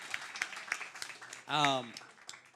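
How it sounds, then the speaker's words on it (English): Scattered, sparse claps from a small comedy show audience, with a loud whooping cheer breaking in midway and talk continuing around it. "Give us some applause."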